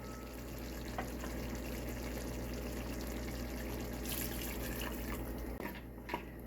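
Half a cup of water poured into a pot of curry goat with potatoes, a steady close splashing and trickling pour running the whole time, with a brief louder burst near the end.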